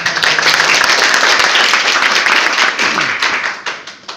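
A room at an internal Riway company meeting claps for Pak Ifedi, a dense burst of loud, close hand claps lasting a few seconds before thinning out and tapering off near the end.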